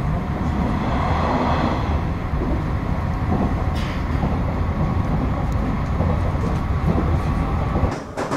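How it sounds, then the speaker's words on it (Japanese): Interior of a moving Nishitetsu N Liner paid-seat train at night, a steady loud rumble of wheels and running gear with faint rhythmic clatter throughout. "この電車は、有料座席列車、N ライナーです。"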